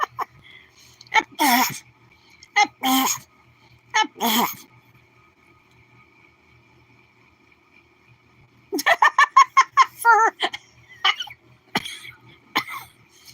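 A voice imitating Donald Duck sneezing: several sharp, squawky bursts spaced a second or so apart, then a rapid, stuttering run of duck-like sneezes with a few final squawks, close and loud.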